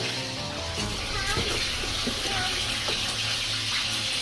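Water pouring into a washing machine during a wash test after a repair for a fault where it would not drain or spin; a loud, steady gushing stream with a voice speaking briefly over it.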